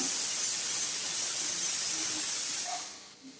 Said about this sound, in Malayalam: അപ്പോൾ കുക്കറിൽ ഒരു വിസിൽ വന്നിട്ടുണ്ട്